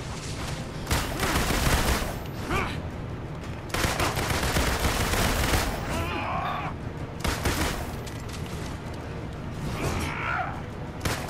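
Video game gunfire in Marvel's Avengers: rapid bursts of automatic shots in dense volleys with brief pauses between them, loud and close, with whooshing action sounds mixed in.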